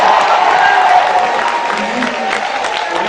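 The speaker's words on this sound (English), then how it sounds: "Standing round of applause to the Vice Chancellor." Steady crowd applause with some cheering fills a university lecture hall in a standing ovation for the Vice Chancellor, loud and continuous throughout.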